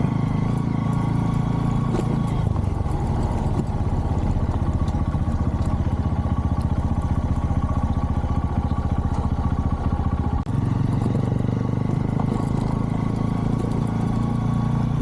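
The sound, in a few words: motorcycle riding along a forest road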